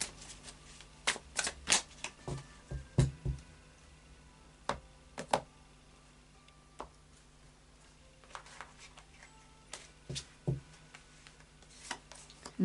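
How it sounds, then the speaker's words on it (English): A deck of Anna K tarot cards being shuffled by hand, with soft riffling and papery slaps coming in irregular bursts and sharp taps between quieter stretches, close and moderately loud with no talking. "a final shuffle of the Anna K Tarot"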